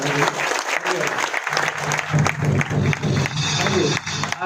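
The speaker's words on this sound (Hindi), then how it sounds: "एक बार जोरदार तालियां बजाएंगे" A seminar audience applauds loudly and steadily, dense clapping filling the whole stretch with a faint murmur of voices underneath.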